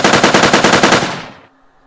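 Rapid automatic weapon fire from a Unity3D game, a steady burst of evenly spaced loud shots for over a second that tapers off and stops abruptly, alone with no talk.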